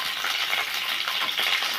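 About a hundred small onions sizzle and crackle steadily in hot oil, a close, continuous frying hiss with no talking.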